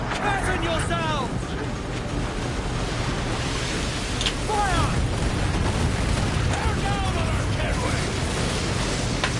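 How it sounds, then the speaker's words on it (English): Heavy naval cannon fire in the pirate video game Assassin's Creed IV: Black Flag, a dense, continuous rumble of booms and crashing water under shouted game voices. "That is a lot of cannons."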